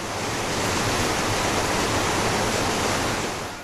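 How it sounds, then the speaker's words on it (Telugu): Godavari river water surges through the Annaram barrage in a steady, broad rushing roar that stays even and continuous from start to finish, with no voices. "అన్నారంలో కాళేశ్వరం గంగ ఉప్పొంగుతోంది"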